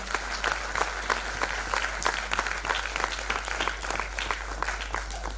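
An audience at the Maharashtra Ratna award ceremony in Pune claps in continuous, dense applause, loud and even throughout.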